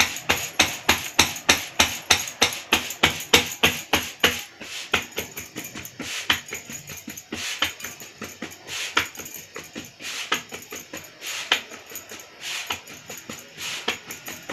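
Hands pat sorghum dough into a bhakri flatbread with a steady run of close, soft slapping pats, quick and regular at first, then slightly looser and more irregular, with no talk.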